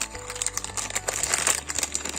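Cardboard and paper packets from an online order are opened by hand, giving close, irregular crinkling and rustling bursts with soft crunches, loud and uneven throughout.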